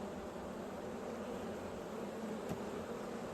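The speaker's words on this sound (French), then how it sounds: "on a en fait des butineuses qui rentrent là et qui sont pas contentes" Honeybee foragers returning to a wild swarm's hive buzz in an agitated way, a steady dense hum throughout that stays close and constant.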